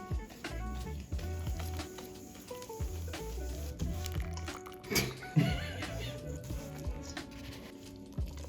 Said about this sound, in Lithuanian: Pilam skystą masę ir po truputį maišom.